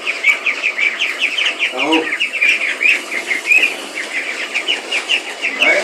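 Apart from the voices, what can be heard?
ducks calling and flapping their wings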